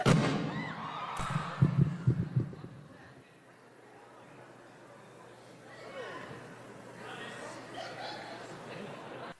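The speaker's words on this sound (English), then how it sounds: "what you in the audience just heard was a faulty monitor exploding" Faulty stage monitor exploding at a stand-up comedy show, a loud burst of sharp bangs and crackling pops near the start, followed by crowd murmuring and scattered reactions as the noise settles.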